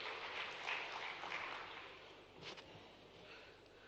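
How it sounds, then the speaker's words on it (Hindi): An audience claps steadily at a state-level awards ceremony for weavers and artisans in the Kushabhau Thakre auditorium in Bhopal. The applause is a faint, dense wash of clapping that gradually thins out over a few seconds. "जोरदार तालियां हो जाए आदरणीय श्री दिलीप जायसवाल"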